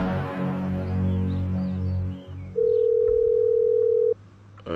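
A steady telephone dial tone sounds loudly for under two seconds while a call is being placed, following a lower droning tone that fades out before it.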